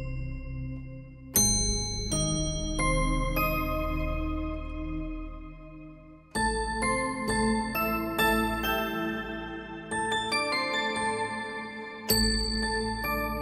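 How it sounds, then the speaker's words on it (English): Sampled bell tones from a Spectrasonics Keyscape keyboard ring out as struck chimes, each with a bright attack and long shimmering decay, played in clusters and layered chords, close and clear with no talking. "Hear that bell right down there, don't you?"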